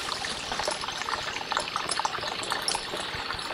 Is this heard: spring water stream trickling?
yes